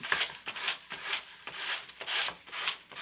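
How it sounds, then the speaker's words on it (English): Rhythmic rasping strokes of a 220-grit sanding block scraping across a paper edge, about six even back-and-forth passes, close and fairly quiet. "I'm just using a 220 grit sanding block to trim it."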